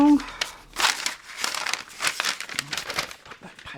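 Paper is crumpled and handled in repeated crinkly bursts, close and fairly loud, with brief pauses between the rustles.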